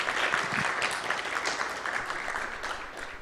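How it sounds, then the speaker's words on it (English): Audience applause at a youth entrepreneurship programme event, a steady wash of many hands clapping, moderately loud and continuous for about three seconds before thinning out. "let's give him a big round of applause"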